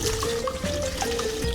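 Clean tap water runs from a faucet into a container for farm animals to drink, a steady close trickle and fill with no talk over it.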